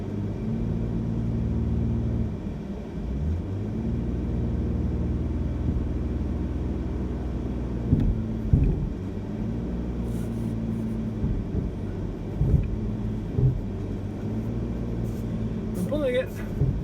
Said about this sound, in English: Let's see if this truck can pull it.